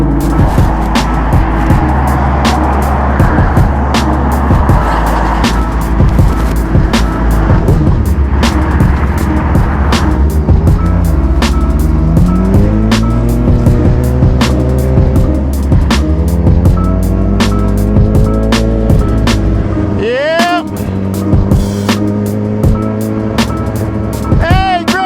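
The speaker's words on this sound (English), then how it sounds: "Look at all these cars flying like they stupid or some shit." Cars rushing past on a busy road, loud and close, with continuous engine and tire roar and rising and falling pitch sweeps as vehicles pass one after another, a voice talking over it.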